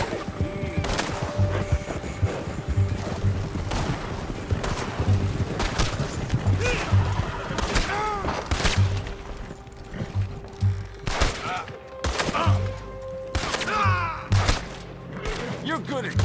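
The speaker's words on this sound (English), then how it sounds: "We'll open fire if we have to. That's it. Shoot that bastard already." Repeated gunshots and rattling volleys in Red Dead Redemption 2 during a shootout, sharp close bangs scattered throughout alongside thuds, with voices and game music running underneath.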